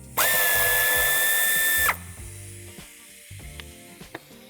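A power tool whirs steadily for about two seconds while removing a screw from a bracket on a Kia Sportage IV during tow hitch installation, followed by quieter clicks and metallic handling noises.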